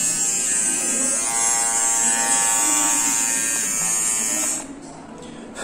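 A Daling DL 1216 hair trimmer set to fast mode, trimming arm hair, a loud steady close electric buzz that drops in pitch and volume near the end.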